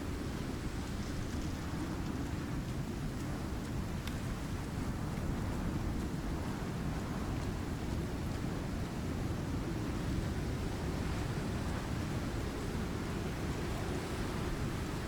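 Rain storm with wind in the Icarus survival game, a steady loud wash of rushing noise that continues without a break.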